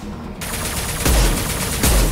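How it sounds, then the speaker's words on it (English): Loud bursts of gunfire in the video game Mass Effect 2 as a crate is shot, with dense overlapping reports in quick succession and no talking. "Why would I want to shoot a crate ever?"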